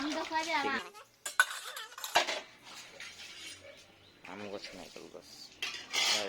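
Dishes and pots clink and clatter while being washed beside a well outdoors, with intermittent metallic knocks beneath people talking nearby.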